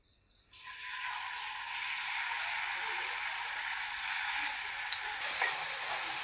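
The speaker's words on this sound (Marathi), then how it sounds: "आता त्याच्यामध्ये थोडं तेल टाकलेलं आहे आता मम्मी त्याच्यात कोलंबी फ्राय करून घेणार आहे" Marinated prawns hit hot oil in a pan and burst into a loud, continuous sizzle that holds steady for several seconds, with faint stirring rattles.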